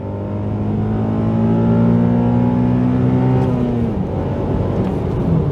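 A Honda Accord CL9 with a reflashed ECU revs hard, its engine note climbing steadily into high RPM for several seconds before the pitch drops off, loud and close, with no talking.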